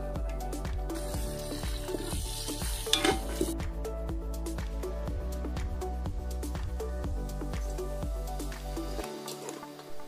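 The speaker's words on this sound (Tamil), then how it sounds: "நல்லா வெங்காயத்தை இந்த அளவுக்கு பொன்னிறமாக வதக்கிக்கலாம்" Sliced onions with mint and coriander fry in oil over low heat, a continuous crackling sizzle with repeated stirring scrapes of a spatula against the pan for several seconds.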